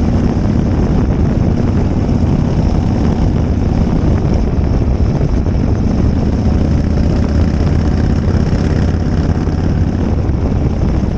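Harley-Davidson Shovelhead motorcycle engine running on a test ride, a steady loud low rumble mixed with heavy wind roar, unbroken and constant throughout with no talking.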